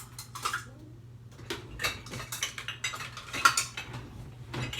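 Metal spoon clinking and scraping in a bowl as broth is stirred into cornbread dressing, a run of light, uneven taps and scrapes close by with no talking.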